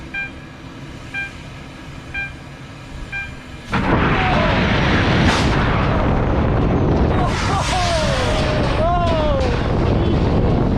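An S&S Sansei Axis prototype roller coaster launches after a quiet lull, bursting into a sudden loud, sustained roar of rushing train and wind noise that carries on to the end, with a few faint voices before it.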